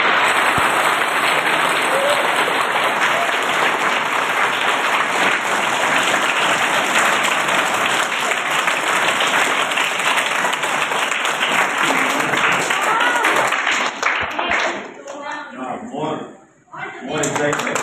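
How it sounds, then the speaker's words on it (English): An audience of children at a chess tutoring session claps loudly and densely for a long stretch, then the applause thins and fades out near the end. "we give a big clap to her."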